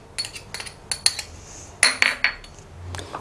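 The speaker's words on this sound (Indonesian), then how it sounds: "Ini kita aduk dulu ya" A utensil stirs potato wedges with salt, pepper and crushed garlic in a metal bowl, giving a run of sharp, close clinks and scrapes at irregular intervals.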